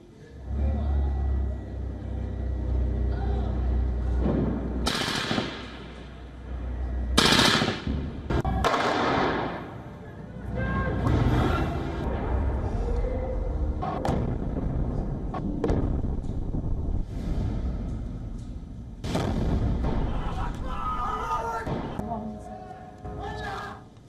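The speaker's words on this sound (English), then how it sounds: "These are the visuals from Tel Aviv showing Israel's Iron Dome system intercepting the rockets." Booming explosions from Iron Dome interceptions of rockets over Tel Aviv, several heavy blasts with rumbling and crackling between them.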